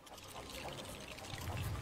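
Water spraying from a sprinkler in the Lego Movie 2 video game, a steady soft pouring hiss that swells slightly toward the end, heard alone at low level.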